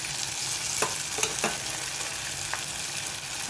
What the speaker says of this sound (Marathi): आता यात आपण बघू शकतो आपण कांदा छान परतून झालेला आहे